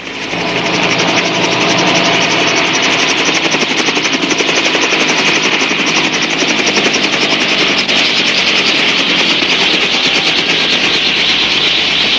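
A loud, continuous surveillance helicopter engine drones with rapid rotor chopping throughout, close and steady, with no talking, from the TV series Les Sentinelles de l'air.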